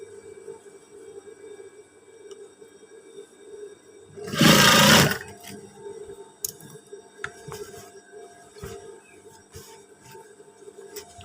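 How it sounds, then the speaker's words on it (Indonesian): A sewing machine stitching trousers runs in one loud whirring burst of about a second, then stops, leaving quieter handling clicks and a low background hum. "Kita jahit."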